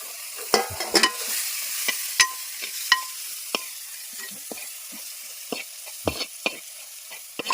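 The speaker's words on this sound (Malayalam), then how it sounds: "നമ്മളിതിൻ്റെ പച്ചമണം പോകാൻ വേണ്ടിയിട്ട് ഒന്ന് പതുക്കെ ഒന്ന് ഇളക്കി കൊടുക്കും" Beef curry with onion and garlic is stirred in a pan, giving scattered scraping clicks of a spoon against the pan over a soft, quiet sizzle, with no talking.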